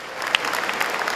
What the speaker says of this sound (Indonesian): Dari Bank BPD Jawa Tengah, kita beri tepuk tangan